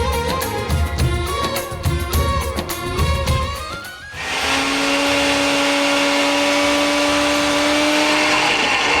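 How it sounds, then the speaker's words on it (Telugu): A kitchen mixer grinder grinding ginger garlic paste with a drop of water starts up after about four seconds and runs as a loud, steady whirring roar, preceded by other kitchen noise. "ఓకే, మిక్సీ పట్టుకొని వచ్చేయండి అక్కడ ఉంది"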